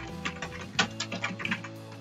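Typing on a computer keyboard while making a resume in MS Word: a quick, uneven run of close clicking keystrokes with no talk.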